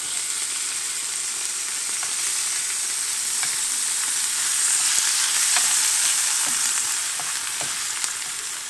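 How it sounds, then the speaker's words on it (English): Frozen spinach cooking in a frying pan, a steady loud sizzle and hiss filling the whole stretch with a few faint clicks and taps, close up and with no talking. "we're going to go ahead and add our spinach in. Because my spinach is frozen."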